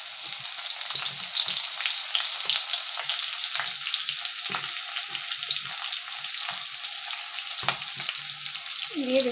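Chopped garlic fries in a generous amount of hot oil alongside taro leaves, giving a steady, bright sizzle throughout with occasional soft stirring scrapes.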